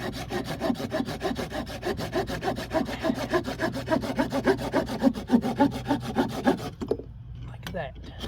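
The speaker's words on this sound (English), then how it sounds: "I'm going to take my little saw, I'm going to cut this off right here." A small hand saw cutting through a wooden branch for a bushcraft ladder, brisk rhythmic rasping strokes close up that stop near the end, followed by a couple of light knocks.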